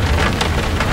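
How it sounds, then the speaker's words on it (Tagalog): Rain falling outside a window in Baguio, a steady dense hiss of drops with soft low rumble, loud and close for a brief moment, no voices. "Tapos umuulan by the window."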